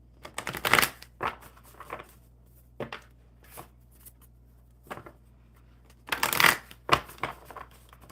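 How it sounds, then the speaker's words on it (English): Playing cards are shuffled in several quick riffling bursts with pauses between, close and crisp, with no one talking. "One more shuffle"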